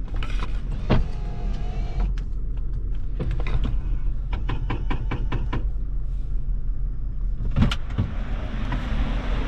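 Power vent window motor in a 1988 Lincoln Town Car whirs in short bursts alongside sharp switch clicks, knocks and creaks, close and fairly loud, with no talking.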